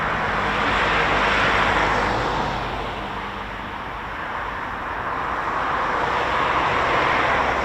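A military jet takes off at an air base, a loud broad roar that swells, dips slightly and builds again, heard from a distance with no talk.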